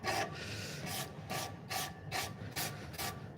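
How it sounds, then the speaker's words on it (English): Light sandpaper rubbing over a knife or wood in a shop, a run of rhythmic rasping back-and-forth strokes, about eight passes, close and steady with no talking. "I got no problem running a little light sandpaper over some of this"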